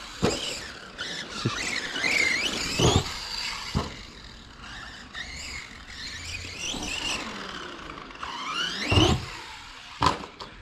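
A Pro-Line Pro MT radio-controlled truck with a plastic spur gear, its high-pitched whine rising and falling in sweeping bursts as it drives around an outdoor circuit, with sharp clacks of impacts scattered throughout.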